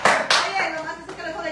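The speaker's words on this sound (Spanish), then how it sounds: "Denle un aplauso ahí." A few hands clapping in a small group at a Spanish-language religious talk, brief claps at the start that trail off under overlapping speech and chatter.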